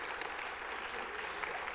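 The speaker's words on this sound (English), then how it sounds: "I'm going to clap for that one too" A church congregation claps in a dense, steady burst of applause, with many hands blending into a continuous patter that fills the room briefly.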